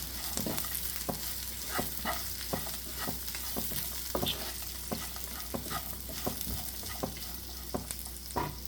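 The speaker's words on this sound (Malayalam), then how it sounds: "ഇപ്പൊ നമുക്ക് രണ്ട് ടേബിൾ സ്പൂൺ ചേർത്ത് കൊടുക്കാം എന്നിട്ടൊന്ന് മിക്സ് ചെയ്യാം" Okra frying in a pan as masala powder is stirred in, a close continuous sizzle cut by regular rhythmic scrapes and knocks of a spoon against the pan, no voices.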